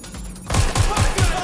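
Rapid gunfire in a PS4 video game, a burst of four or five close, punchy shots at an even quick rhythm over a noisy, busy background.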